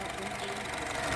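A 2016 Honda City VX CVT automatic petrol engine idling quietly, a soft steady low hum with faint even ticking, and no one speaking.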